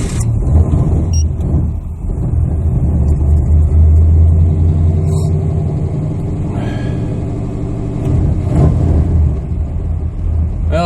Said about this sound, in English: See if it starts up. Hopefully it does.